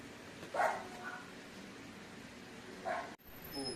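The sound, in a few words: dog barking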